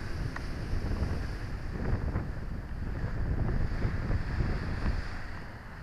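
Strong wind buffets the microphone during an FPV drone flight with a Foxeer Arrow V3 camera, a loud, low roaring rumble that swells and gusts continuously and stays close throughout, with no talking.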